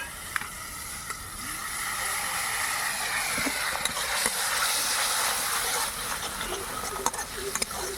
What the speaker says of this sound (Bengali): এরপর দিয়ে দিচ্ছি ফেটিয়ে রাখা টক দই।